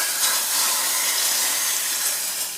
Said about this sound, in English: pour the hot oil with all of the stuff in it into my dal